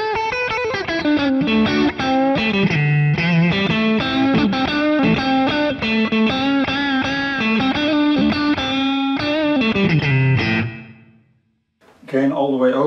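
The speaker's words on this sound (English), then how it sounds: "Gain all the way open." Electric guitar played through a Rowin Bluesy Overdrive pedal with the gain fully open gives a loud, sustained overdriven blues phrase of bends and held notes, ending abruptly before a brief silence and a short return of sound.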